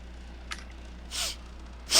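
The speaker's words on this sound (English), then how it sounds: "Sniff.mp3." A sniff sound effect played during a podcast chat: a brief nasal intake near the half-second mark, then two louder breathy sniffs, the last at the very end, over quiet room hiss with no talking.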